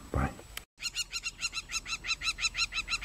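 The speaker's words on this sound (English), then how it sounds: "One of the coolest birds ever, the secretary bird." Repeated rhythmic calls from a bird in the wild at Ol Pejeta Conservancy, Kenya, a quick series of even, chirping notes after a short burst of noise and brief silence, fairly close and clear.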